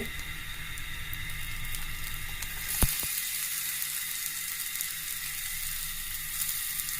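Chopped garlic and onion frying in oil in a pan, a steady close hiss with a single sharp knock partway through, no talking.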